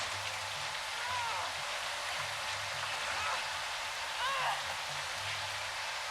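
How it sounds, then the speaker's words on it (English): Steady rain falls throughout a scene from an episode of LOST season 1, a dense even hiss with low murmuring voices and a faint hum underneath. "I love the rainy weather."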